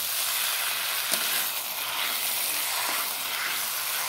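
Kochur loti, the taro stolons, being sautéed with spices in a pan make a dense, even sizzle with a couple of faint scraping stirs, steady and close, with no talking.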